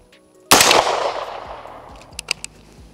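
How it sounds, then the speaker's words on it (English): A single sharp unsuppressed rifle shot cracks loudly and rolls into a long decaying echo, followed by a few faint metallic clinks as the report fades. "Let's try and fire around unsuppressed and see how that sounds."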